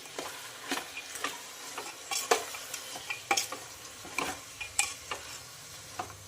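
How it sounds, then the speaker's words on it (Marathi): Onion and garlic masala with garam masala, turmeric and salt being sautéed, as a spoon scrapes and taps the pan in quick irregular strokes over a low sizzle, heard up close. "कांदा लसूण मसाला आणि गरम मसाला चवीनुसार मीठ हे छानपैकी आपल्याला आता असं परतून घ्यायचं आहे"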